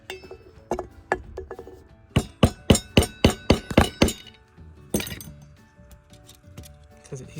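A nail tapped with a hammer through a metal dog tag to punch a hole, a few light clinks followed by a quick run of about eight sharp, ringing metallic strikes in steady rhythm, then scattered softer taps.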